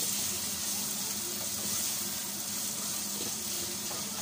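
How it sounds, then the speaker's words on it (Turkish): Meat sautéing in oil in a home kitchen pan gives off a continuous, even sizzle with soft crackle, steady and moderately quiet, with no talking. "Et sotelemeye devam."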